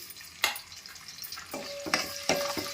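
Thinly sliced onion frying in a generous amount of oil for an Andhra-style prawn and gongura curry, a steady soft sizzle broken by a few sharp stirring scrapes, close and fairly quiet with no talk.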